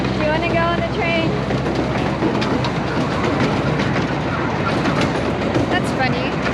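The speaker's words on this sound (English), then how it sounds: "There's a train." A steady rumbling roar with rhythmic clacking, like a train rolling past close by at a zoo, with voices talking over it.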